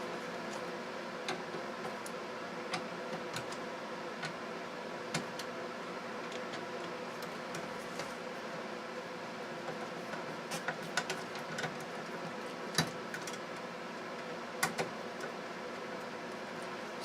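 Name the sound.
Tandy 3100 computer running after power supply repair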